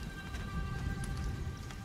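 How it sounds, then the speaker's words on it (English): Rain falling in the video game Nightingale, a soft steady patter of drops on surfaces, continuous and fairly quiet, with no voices over it. "Amazing, it started raining."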